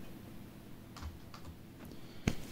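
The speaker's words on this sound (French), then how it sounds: "qu'on appuie sur la touche CTRL du clavier qui est notée CTRL" Keys pressed on a computer keyboard for the Ctrl+E shortcut in Excel: a few soft taps, then one sharper, louder keystroke near the end, close and quiet with no talking.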